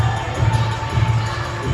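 A wrestling crowd at a ringside event cheering steadily as a wrestler named Calvin appears, a continuous roar of many voices throughout.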